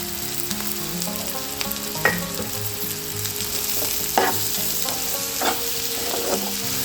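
Drumstick pieces and turmeric are stirred in a hot frying pan for a drumstick milk curry, with a continuous oily sizzle broken by several sharp scraping and clanking strokes of the spoon against the pan.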